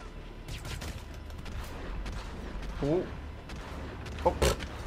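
Gunfire in the video game Hitman: Absolution: scattered, muffled shots and bursts that seem fairly distant, set against a dull, rumbling game backdrop.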